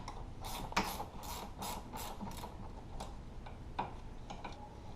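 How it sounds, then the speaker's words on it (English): Ratchet wrench loosening the sway bar linkage bolt on a Polaris RZR Turbo, a series of quick clicking bursts at close range, with one louder clack near the start and another later on. "you want to take off this bolt right here holding on your sway bar linkage arm."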